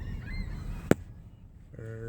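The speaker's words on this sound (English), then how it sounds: "crazy amounts of birds." A single loud honk from a bird in a large flock cuts through faint background noise. A softer, drawn-out call follows near the end.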